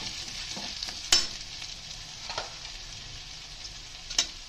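Vegetables for a veg paneer roll being stirred and mixed in a frying pan, a soft steady sizzle with a few sharp spatula scrapes and clicks, close and moderately quiet, no talking.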